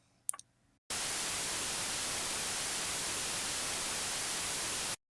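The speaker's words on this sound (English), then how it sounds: "That's white noise." White noise from a synthesizer, a steady flat hiss switched on abruptly and held at even level for about four seconds before cutting off, following a brief click at the start.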